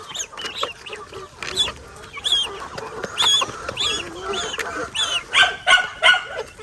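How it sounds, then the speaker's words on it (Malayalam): Several chickens cluck and squawk close by in irregular bursts, growing busier toward the end. "കോഴി കളിച്ചിരുതാ"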